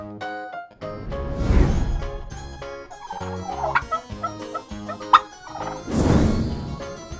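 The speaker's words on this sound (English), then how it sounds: "Turkey." A turkey gobbles in rapid, throaty bursts, close and clear, set against a plucky backing melody with a few sharp accents.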